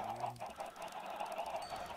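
Minecraft chickens fed beet seeds, clucking in short repeated bursts, a busy cluster of bird calls heard alone with no talking.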